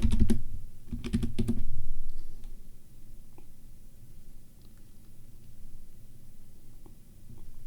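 Computer keyboard keys clatter in a few quick bursts as a password is typed on an Ubuntu Linux machine, then stray light clicks follow in a quiet room.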